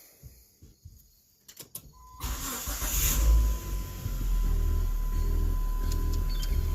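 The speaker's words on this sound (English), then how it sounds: "So I want to crank the car." A Neon car with a newly replaced head gasket clicks a few times, then cranks and catches, settling into a steady idle with a faint high whine, close and fairly loud.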